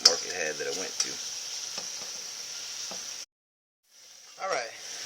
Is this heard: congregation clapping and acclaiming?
no